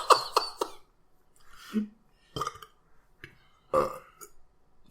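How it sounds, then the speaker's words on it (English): Several loud burps from two people, a quick run of short belches at the start followed by a few more spaced out, with no talking. "then we both burp"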